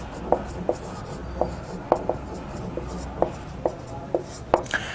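A math formula is written out by hand in a series of short, crisp scratching strokes, close and fairly quiet, spaced irregularly over a few seconds.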